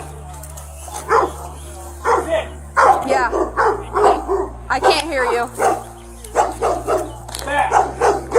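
Dogs bark in short bursts amid urgent overlapping talk and shouting, the barks fairly close and loud.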